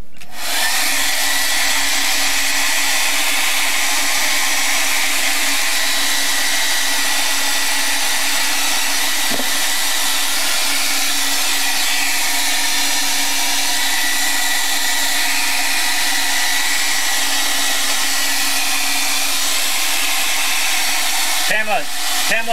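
A hair dryer blowing on paint in an art journal, a loud, steady close-up whoosh and motor whine running continuously, with a brief pitch shift near the end.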